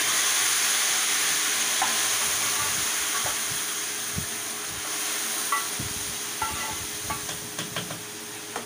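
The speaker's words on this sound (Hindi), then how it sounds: "ये मैंने लगा दिया तड़का" Browned onions and cumin sizzle in hot oil as a tadka for haleem. A steady, close hiss continues with scattered clinks of a spoon, and no one speaks.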